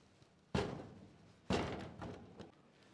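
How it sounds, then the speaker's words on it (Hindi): Cut potato fries for homemade french fries drop straight into a bowl of water, making two soft, quiet plopping splashes about a second apart, followed by a fainter settling splash. "डालना आपने पानी में डायरेक्ट।"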